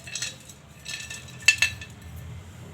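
A spoon clinks and scrapes against a pan while stirring chopped dry fruits into mawa, with two sharper metallic taps near the middle over a quiet background, no talking.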